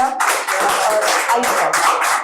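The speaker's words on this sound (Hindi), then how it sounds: "तो जोरदार ताली से स्वागत कीजिए" An audience at a Hindi poetry recital claps loudly and close by, the applause coming in uneven surges that rise and dip over a couple of seconds.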